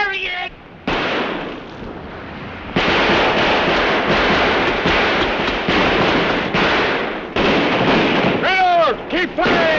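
Gunfire in a 1936 film rings out as repeated cracking shots and bursts over a dense, noisy old soundtrack, with shouting voices heard near the end.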